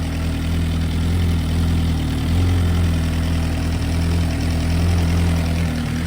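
A 2025 Suzuki GSX-R1000 with a new Brocks full exhaust idles steadily up close, a loud, deep, throbbing rumble with no change in pace and no voices.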